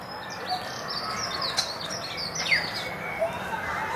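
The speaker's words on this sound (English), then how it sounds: "The beautiful song of the parrots." African grey parrots and parakeets calling in a zoo aviary: scattered high chirps, whistles and tweets over a steady noisy background, with a few sharper calls standing out.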